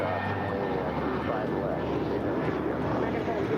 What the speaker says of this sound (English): 1719 departing to Vancouver. It's an Airbus A319.